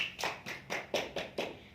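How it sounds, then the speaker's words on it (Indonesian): A small group claps together at a health and nutrition session for pregnant mothers, giving about six distinct, evenly spaced bursts of close hand claps with no talking. "Oke, tepuk tangan buat kita semua."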